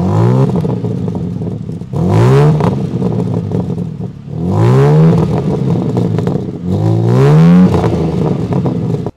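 A sports car with a carbon-upgraded interior revs hard three times, each rise sweeping up loud and close, then falling back to a rough idle between bursts.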